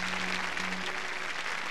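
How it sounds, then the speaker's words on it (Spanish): Concert audience in Chile in 1987 applauding as a guest stands, a dense continuous wash of clapping at steady loudness with a faint held tone underneath. "le vamos a dar un gran aplauso"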